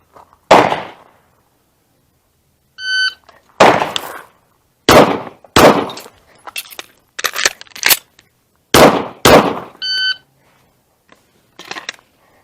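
Sharp gunshots crack out one after another during a timed shooting stage, with loud single and paired reports spread across the run, a pause for a reload, and faint electronic beeps from the shot timer between strings.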